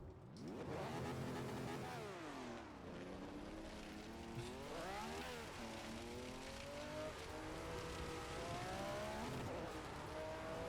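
A Ferrari 312/67 race car in Assetto Corsa screams around the Nordschleife, its high-revving engine climbing and dropping through gear changes with sustained rising and falling whine, loud and alone.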